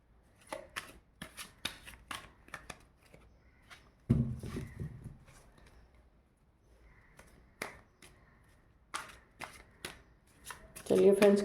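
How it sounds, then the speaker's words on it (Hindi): Tarot cards are shuffled by hand in brisk, crisp bursts of riffling and flicking, with quiet gaps between them and someone speaking softly at times. "फिर से करते हैं थोड़ा शफल।"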